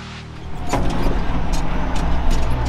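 Massey Ferguson 6290 tractor with a plough mounted, driving on a road, its engine rumbling steadily and fairly close with rattling and clunks over the drone.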